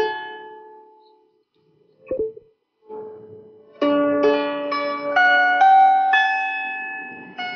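Improvised lyre playing from a CD recording: a few sparse plucked notes at first, then a run of ringing strummed and plucked string tones with long sustains, fairly close and clear, no voices.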